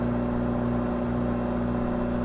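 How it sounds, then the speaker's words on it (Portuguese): Stationary McLaren GT3 race car idling in a racing video game at Barcelona, a steady droning engine hum with strong even tones, loud and continuous with no talking. "o barulho da McLaren parada é igualzinho o carro do Renato"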